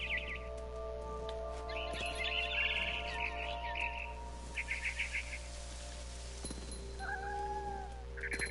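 In the video game What Remains of Edith Finch, a cat meows and chirps in short bursts over a steady low ambient hum, with bird-like tweets between.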